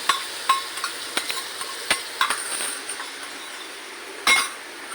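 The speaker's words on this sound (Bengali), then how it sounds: "ভাজাভাজি হচ্ছে" Fish frying in a pan with yogurt added for a spicy curd katla curry: a steady soft sizzle runs throughout, punctuated by sharp clinks and taps of a utensil against the pan, with one louder scrape near the end.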